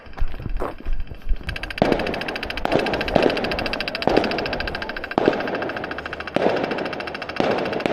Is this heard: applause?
no